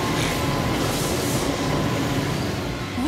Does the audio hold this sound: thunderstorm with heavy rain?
no